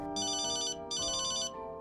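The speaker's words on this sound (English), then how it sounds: "The phone rings," A telephone rings twice in a quiet home during a dinner scene from a TV crime documentary, two long electronic ring bursts with a short gap, fairly clear over a faint background hum.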